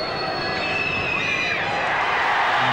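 A stadium crowd roars after a successful rugby league goal kick in the 1987 Canberra versus Eastern Suburbs preliminary semi-final, a loud sustained wash of cheering with whistles and shouts throughout.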